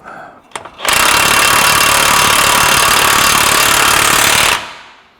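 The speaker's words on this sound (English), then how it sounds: "Now we're just gonna bring this so it's snug, and then we'll torque it down a little bit." Impact gun snugging a control arm bolt during a coilover and control arm install on a 2025 Ford, one loud continuous hammering burst of about four seconds after brief handling clatter, then it stops.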